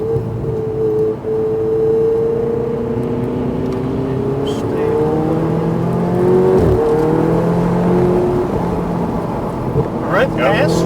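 A Ferrari with an automatic gearbox downshifts on a race track, its engine note stepping down through rising and falling whines and bucking slightly, loud and close from the cabin while people talk over it.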